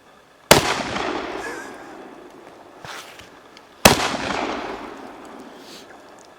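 Two loud, sharp shotgun blasts from a Dominion Arms 1887 lever-action shotgun fired at targets on an outdoor range, spaced about three seconds apart, each followed by a long rolling echo that decays across open ground.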